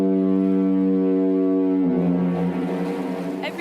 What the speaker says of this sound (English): Every foghorn has a unique sound, its own pattern.